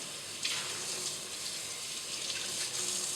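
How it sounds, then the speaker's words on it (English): A sponge rinsed under a running tap, giving a steady close hiss of flowing water that stays even throughout with slight splashy swells. "I rinse it again."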